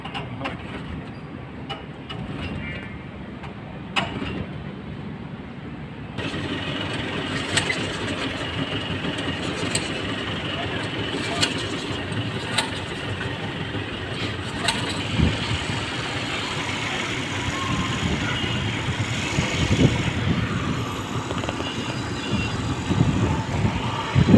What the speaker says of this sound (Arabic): مركب في النيل، فسحة نيلية.